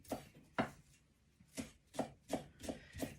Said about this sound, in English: handful of fresh coriander, and I'm just going to chop all that up quite fine